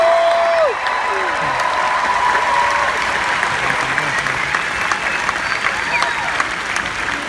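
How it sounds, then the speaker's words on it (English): A large arena crowd at a Dallas event applauds loudly and steadily for several seconds, dense clapping throughout, with a voice trailing off at the very start. "let's give them a huge round of applause"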